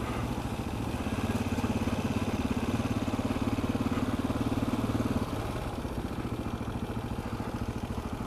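KTM 640 LC4 supermoto single-cylinder engine running loud and steady as the motorcycle rides through a town, a throbbing rumble that swells for a few seconds, then drops slightly in pitch and continues under wind noise.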